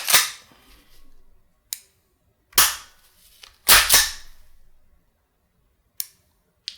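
Trigger pulls on an H&K VP9 gas blowback airsoft pistol give several crisp, close metallic clacks spaced a second or two apart, one a quick double, with quiet gaps between.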